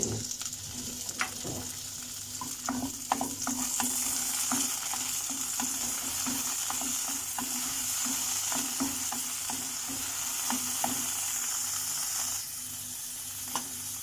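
Green peas and beans being stirred and sautéed in a pan, a soft steady sizzle with repeated scraping taps from a spoon against the pan, fairly quiet and close, no voices.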